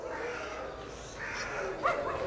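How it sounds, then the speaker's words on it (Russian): A small puppy at a Moscow dog and cat shelter gives short whimpering yips and a bark near the end, faint against outdoor background noise in snowy weather. "Вот маленький щеночек здесь."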